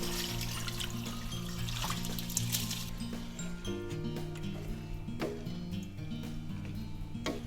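Soaked basmati rice and water pour into a cooking pan with a steady trickling, splashing flow and a few small clinks, fairly quiet and without talking.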